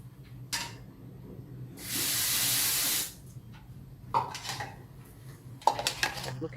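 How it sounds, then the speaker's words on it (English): Water gushes briefly into a small metal pot as a hissing pour about a second long, with sharp clinks and clatter of the pot and utensils before and after, close by. "I'm going to put some water in it just to get what's left over"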